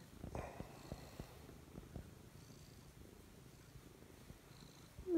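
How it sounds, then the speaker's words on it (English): A cat purrs close up in a rhythmic, low, soft rumble that pulses in repeated breaths, faint and alone with no talking. "My cat is here."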